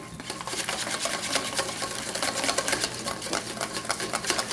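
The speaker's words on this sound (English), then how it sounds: "Real good stir." Oil is stirred briskly into homemade mayonnaise, giving a steady fast clicking and scraping rhythm of utensil against bowl, close and continuous throughout.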